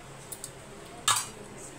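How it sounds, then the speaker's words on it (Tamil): A metal lid is set over a pan of butter paneer masala with one bright, brief clink, preceded by two faint taps in a quiet kitchen. "இது இப்போ மூடி வச்சிடலாம்."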